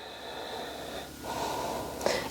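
Audible breath in and out during a chest mobility exercise, with a steady airy exhale, a brief pause, then a sharper, snort-like inhale, close and moderately quiet.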